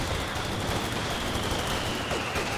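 Sustained StG assault rifle fire in the Company of Heroes 2 strategy game, dense overlapping bursts forming a continuous loud rattle of battle with no pauses.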